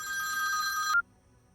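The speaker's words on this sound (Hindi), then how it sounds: "विपुल का फोन है।" A telephone rings with a bright, steady electronic trill, close and clear, sounding for about a second before stopping abruptly into quiet.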